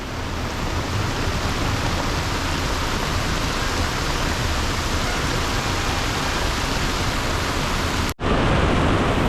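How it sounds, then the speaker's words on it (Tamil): Steady, dense roar of heavy rain pouring onto a lake beside a houseboat in Alappuzha, loud and continuous, with a brief dip near the end before resuming. "மழை இப்போ தான் கனமழையாக பெய்யுதுங்க"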